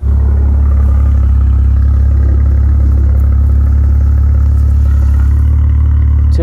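Maserati Levante SUV with a Ferrari-built engine and twin exhausts on each side, idling steadily with a deep, continuous low rumble close by, no talk.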